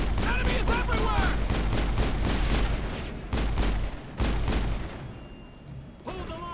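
Rapid bursts of gunfire from a Mass Effect firefight against mercenaries, dense repeated shots and volleys that stay loud for most of the stretch, thin out briefly, then return.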